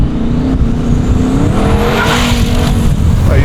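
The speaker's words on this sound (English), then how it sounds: "you were spinning tires" A twin-turbo Ford Raptor pickup tuned to about 1,250 horsepower to all four wheels roars loudly and close as its tires spin, the engine note held high and steady with a squealing, skidding edge throughout.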